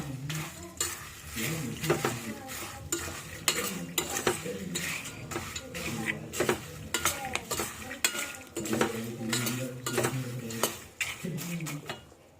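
Poha being stirred with salt and turmeric for a dry tea-time snack, a busy run of close scraping and clinking of utensil against pan that continues steadily throughout, with a tonal hum running underneath.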